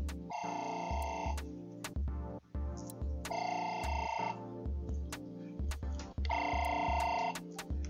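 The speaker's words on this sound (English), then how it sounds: "And my phone is ringing." A telephone rings in repeated electronic bursts, three distinct ring cycles with short gaps, fairly loud and close, with no talking over it.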